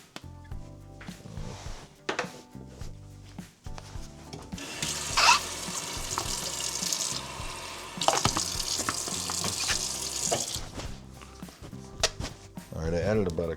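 Water poured into a Ninja Auto IQ blender holding frozen cottage cheese and blueberries, a close steady gush lasting a few seconds, then a second pour, amid clatter and handling noises.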